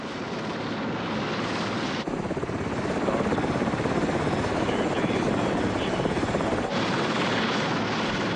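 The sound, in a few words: CHSS-2 Sea King helicopter with twin turbine engines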